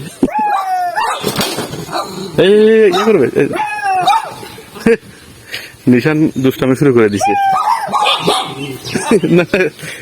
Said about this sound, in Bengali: আস্তে দেখুন আপনারা কি সুন্দর বিদেশি কুকুর